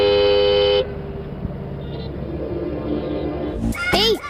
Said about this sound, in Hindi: हॉर्न सुनाई नहीं दे रहा है क्या?